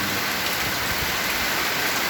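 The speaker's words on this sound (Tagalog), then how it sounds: "Yan po ang malakas na ulan." Heavy night rain pours steadily, a dense continuous hiss of water striking surfaces with no pauses and no voices.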